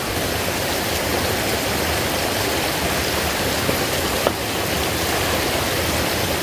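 Steady rushing roar of the Silveira river waterfall in Tupi-Guarani indigenous lands, a dense continuous wash of falling water close by with one faint click partway through.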